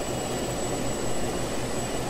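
A small jet aircraft flies in Just Cause 2 on a dark, rainy, overcast day, giving a loud, continuous engine roar with an even broadband rush and a thin high whine running throughout.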